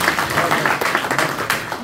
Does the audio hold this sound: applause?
yes